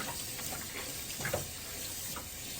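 Pottery tools are swished and rinsed in a water bucket while cleaning a potter's wheel, soft splashing and trickling water at close range, faint with small irregular bursts.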